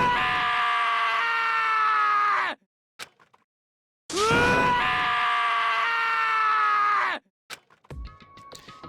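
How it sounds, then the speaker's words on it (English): The character Taka screams in the video game Danganronpa: Trigger Happy Havoc, two long anguished wails, each lasting a few seconds, loud and up close, separated by brief quiet and ending in scattered sound effects. "As Taka's sad screams invaded our skulls"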